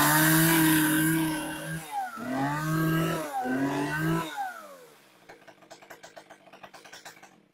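A Japanese 30cc chainsaw with a mini chain starts and is revved hard in several loud, whining bursts, then drops to a lighter, rapid puttering idle close by.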